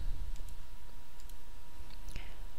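A computer mouse clicks on a forum login button, a few small dry ticks scattered over a low steady hum, with a slightly louder click near the end and no speech.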